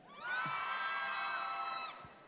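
Convention hall audience letting out a sustained, loud cheering scream that holds for about a second and a half, then drops away, with a few thumps around it.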